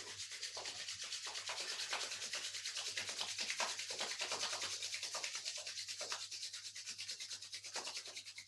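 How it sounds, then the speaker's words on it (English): Hands rub briskly together in a steady back-and-forth rhythm, close and soft, a continuous dry swishing with no talk. "Rub the hands together"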